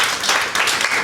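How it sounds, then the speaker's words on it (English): Round of applause from an audience at a coaching and storytelling event, a dense, steady wash of clapping filling the short moment without a clear break. "You can give a round of applause."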